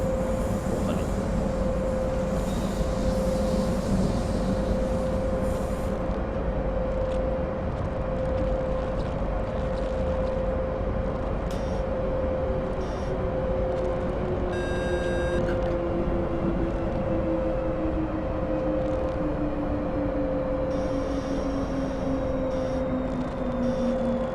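An ÖBB 1044 electric locomotive runs on the Semmeringbahn in Train Simulator 2016, a steady loud rumble with a sustained motor whine that slowly falls in pitch, plus faint clicks and cab sounds throughout.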